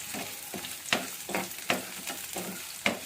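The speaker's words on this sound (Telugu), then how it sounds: "ఫస్ట్ ఆనియన్ వేసి మంచిగా ఇలాగా కలిపేస్తూ ఉందాము" Onion frying in mustard oil in a pan, with broadband sizzle under a spatula stirring in repeated scrapes and sharper clinks roughly every second, close and moderately loud, no talk.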